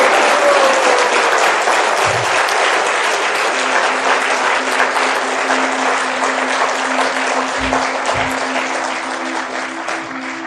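A large audience at a motivational speech claps steadily and densely, loud and continuous, easing slightly toward the end without any voices on top.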